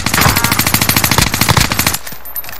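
Call of Duty: Warzone gunfire sounds in a loud, fast automatic burst of about twenty rounds in two seconds, close and relentless, then cuts off into a brief lull.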